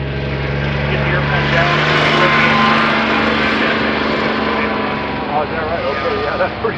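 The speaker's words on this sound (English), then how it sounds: "It's not a really fast airplane, but it flies slow really well." A Fokker D.VII World War One replica experimental aircraft flying slowly, its propeller engine giving a steady loud drone throughout while people talk over it.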